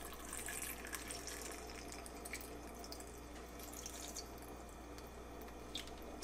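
Water poured into a Ninja Fit personal blender cup holding kale leaves and ice cubes, a faint steady trickle and splash, close and quiet, with no talk.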